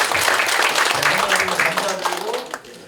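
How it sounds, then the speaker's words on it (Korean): Audience applause at a Korean political candidacy declaration event, a short burst of clapping that fades toward the end, with a voice speaking over it. "박수 한번 주세요."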